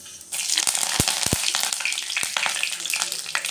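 Fennel seeds and curry leaves hit hot oil in a pan for a prawn gravy, setting off a sudden loud crackling sizzle with a few sharp pops and spoon knocks, close and continuous.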